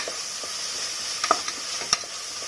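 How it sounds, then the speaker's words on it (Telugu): Chopped onions fry in oil and are stirred in a pan for Chennur-style dum biryani: a soft, steady sizzle broken by a few sharp spatula clicks and scrapes near the middle and end. "ముందుగా కట్ చేసి పెట్టుకున్న ఆనియన్స్, బాగా వేయించుకున్నాము"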